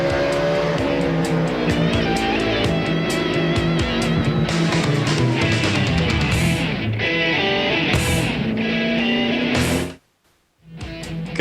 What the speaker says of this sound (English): Bumping and banging continues at Martinsville as we're under 40 laps of racing to go to the finish of this one.